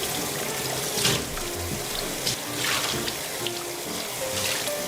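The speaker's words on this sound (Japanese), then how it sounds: "じゃあ鱗を洗い直していきます。" Tap water runs steadily over a fish as its loosened scales are rinsed off, a continuous splashing gush with brief louder surges.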